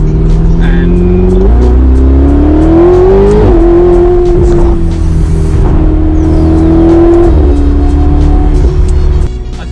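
A Ferrari 488 Spider engine revs hard in race mode on fast, twisty Sardinian roads, loud and close, pitch climbing through gears with brief shift dips, continuous throughout.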